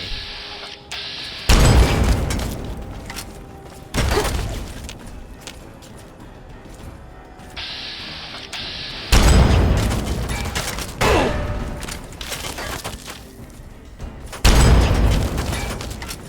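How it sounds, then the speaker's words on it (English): Missile explosions in the Fallout 3 video game, several heavy booming blasts a few seconds apart, each loud and broadband with a long rumbling decay, mixed with mechanical combat noise. "He's firing a freaking missile at me."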